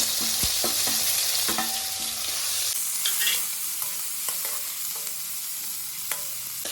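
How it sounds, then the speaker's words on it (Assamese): Fish sizzles steadily in leftover oil seasoned with salt and turmeric while cooking for a dry fish curry, with close scraping and stirring clicks over the continuous crackle and no talking. "এই বাচি যোৱা তেলখিনিতে এই মাছখিনি ফ্ৰাই কৰিম।"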